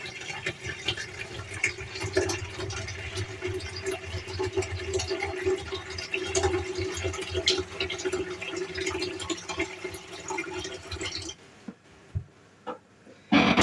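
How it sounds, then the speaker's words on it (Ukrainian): Steady rushing of cold tap water pouring into a pot, loud and continuous for about eleven seconds, then it cuts off, leaving a few faint clinks. "Набираю холодну воду."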